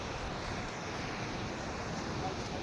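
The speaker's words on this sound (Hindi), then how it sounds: "ये नदी है।" A river flowing outdoors, a dense continuous rush of water mixed with wind buffeting the microphone, steady and fairly loud, with no voices standing out.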